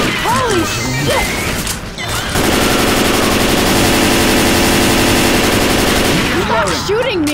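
Dense automatic gunfire in a chaotic shooter set in a Mushroom Kingdom, a loud continuous burst lasting several seconds, framed by frantic speech before and after.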